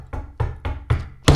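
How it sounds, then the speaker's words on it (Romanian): Knocking on a door: five sharp, evenly spaced raps land in quick succession, the last one louder and heavier, close by and with no other sound around them. "Bate la ușă, se aude"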